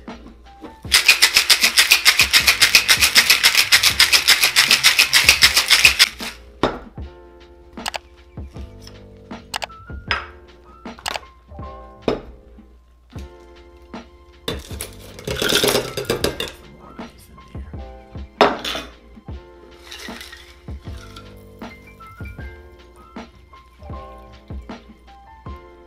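Ice rattling hard inside a cocktail shaker for a basil spritz, a loud continuous shaking burst for about five seconds, followed by scattered clinks and knocks of glassware and utensils.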